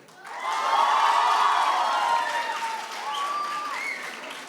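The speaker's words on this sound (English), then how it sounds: "Yes, clap for yourself." Students at a high school graduation ceremony for an SEE batch break into loud, dense applause with cheering and a few whoops. It swells quickly and holds steady before easing off slightly, and a few voices rise above the crowd.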